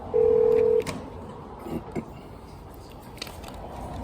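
Telephone tone while a call is placed to a plumbing help line, a single steady beep near the start followed by faint clicks and low room noise.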